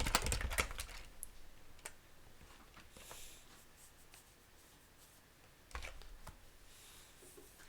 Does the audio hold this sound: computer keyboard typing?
yes